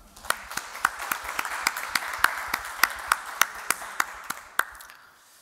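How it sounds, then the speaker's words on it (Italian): Scattered applause at a cycling event, a few distinct, sharp hand claps in a loose, irregular rhythm over a softer background of clapping that fades out near the end. "Facciamogli un applauso."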